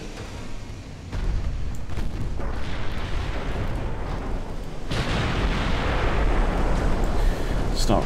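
Battleship guns boom in the naval strategy game Ultimate Admiral Dreadnoughts during a Bismarck versus Littorio engagement, with a heavy rumbling roar that swells after the first second and surges again, loud and sustained.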